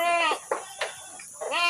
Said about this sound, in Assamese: এই ছাগলীটো তেখেতক দিছোঁ